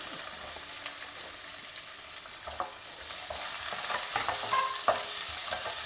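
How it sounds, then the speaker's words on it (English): Sliced onions and a slit green chilli fry in a pan with fennel seeds, a soft continuous sizzle under scattered stirring scrapes and taps that grow slightly louder toward the end, close and without talking. "And fry the onions very well."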